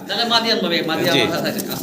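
Two large fancy pigeons coo softly in a steady, continuous murmur, with a person talking close by over them.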